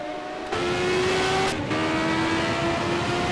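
1988 CART Indy-style race cars roar down the back straight toward the final chicane, running nose to tail with a loud, steady high-pitched engine whine that surges as they close in, with no voices.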